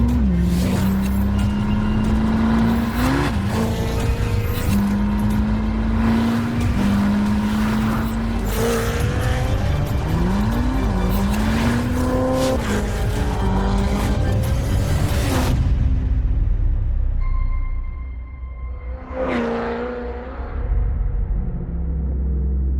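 A Chevrolet Corvette ZR1X hybrid sports car revs hard through repeated rising engine pulls and gear changes, loud and close, before the engine cuts and a last short rev follows.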